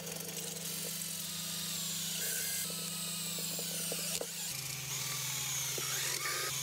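A power drill whirs steadily at close range while drilling out old bushings on a BMW E36, its motor pitch stepping down partway through, with faint scraping and a few sharp clicks.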